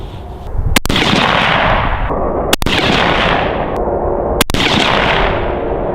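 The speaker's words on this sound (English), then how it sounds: "I'm gonna shoot for the upper right bullseye" Three loud, sharp rifle shots fired at a 100-yard target while sighting in a gun, spaced about two seconds apart, each cracking over a constant outdoor background rumble.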